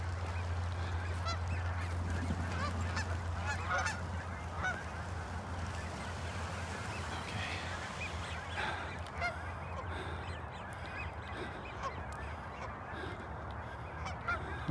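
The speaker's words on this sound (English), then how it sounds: "We got a goose situation right up on the top of the hill here." A flock of geese on a hilltop keeps up loud, overlapping honking, some calls near and others farther off, continuing without a break.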